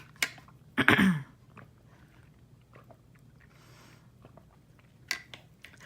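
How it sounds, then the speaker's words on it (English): A short, close slurping sip followed by soft swallowing sounds, then quiet with a few small mouth noises. "need another sip of water"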